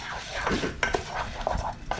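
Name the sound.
stirring rice in oil in a pan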